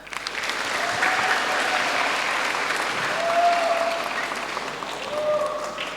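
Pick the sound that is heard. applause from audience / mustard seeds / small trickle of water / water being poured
applause from audience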